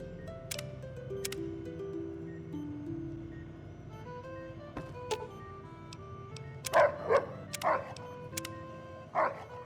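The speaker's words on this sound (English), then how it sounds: "Happy bark." Rex, a dog companion in the video game Fallout New Vegas, lets out a short cluster of happy barks near the end, over game music tones and ticks, with no talk during the barking.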